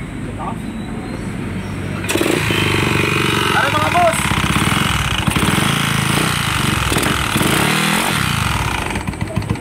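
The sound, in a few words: noisy motorcycle engine starting and running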